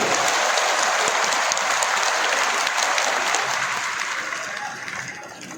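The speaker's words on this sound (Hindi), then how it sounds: "ताली जोर से बजा दें, जोर से ताली बजाइए।" Loud, dense clapping from a crowd at a Jan Suraaj political gathering, sustained throughout and fading slightly toward the end.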